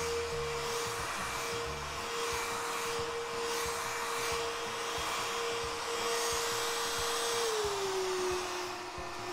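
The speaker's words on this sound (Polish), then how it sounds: "zawsze możemy uruchomić tryb turbo. Odkurzacz będzie trochę głośniejszy, ale zdecydowanie ma większą siłę ssania." Beko VRT82821DV upright vacuum cleaner running in turbo mode on the floor, a loud continuous motor whine with a steady suction roar that dips slightly in pitch near the end, heard close and alone.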